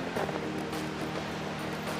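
Mountain stream flowing through snowy wilderness, a continuous broadband rush of water with a steady, even wash and no pauses.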